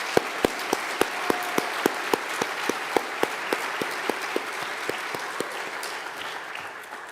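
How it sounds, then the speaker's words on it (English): Applause breaks out at a school assembly for a teacher leaving, with steady clapping from a crowd that carries on for several seconds and slowly thins toward the end. "let's give another big round of applause"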